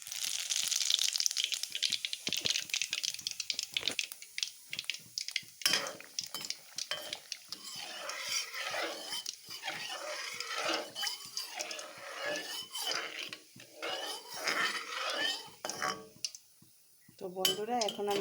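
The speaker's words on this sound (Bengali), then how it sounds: "আমার তেলটা গরম হয়ে গেছে, শুকনো লঙ্কাগুলো ভাজি হচ্ছে, আর ফোড়নে দিয়ে দিচ্ছি আমি" Dried red chillies fry in hot oil for tempering a sweet-sour mango pickle, with soft sizzling under steady clinks of a metal spoon against a pan, while someone talks throughout.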